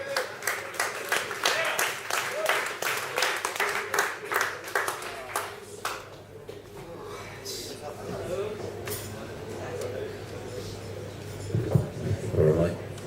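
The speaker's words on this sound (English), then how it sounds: "give us a big round of applause then for Rapunzel Wizard" An audience at a poetry reading in Glasgow breaks into applause, with clear rhythmic claps for the first several seconds that fade out, followed by quieter room sound and a voice.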